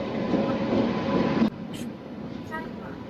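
A train pulls into a crowded station platform on a trip from Goa to Tamil Nadu, a loud rumbling roll that cuts off abruptly, followed by quieter platform noise and faint voices.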